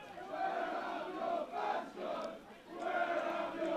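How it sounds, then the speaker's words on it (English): Football fans chant at a floodlit final, a rhythmic crowd chant rising and falling in repeated phrases, carried from across the ground at moderate distance. "I don't know if you can hear the fans, but one of the sides are cheering, "Where are your fans gone?""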